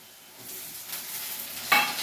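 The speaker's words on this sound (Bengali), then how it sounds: "এরপরে কুচিয়ে রাখা টমেটোগুলোকেও দিয়ে আবার একটু ভেজে নেবো" Chopped tomatoes go into a hot pan and fry with potatoes and onion, giving a soft steady sizzle with a sudden louder hiss and stirring scrape near the end, close and without talk.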